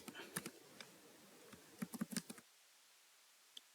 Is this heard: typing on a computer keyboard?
yes